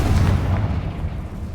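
A loud, booming burst from the Confringo fire spell in Hogwarts Legacy, a heavy low rumbling explosion that decays slowly over more than a second with no talk over it.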